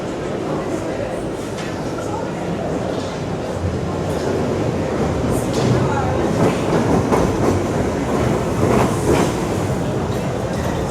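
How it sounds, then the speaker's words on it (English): A busy Piccadilly line Underground train at King's Cross St Pancras pulls into the eastbound platform, wheels rumbling and clattering loudly with squeals and station noise building toward the end. "So the Piccadilly line train to Cockfosters has just arrived here."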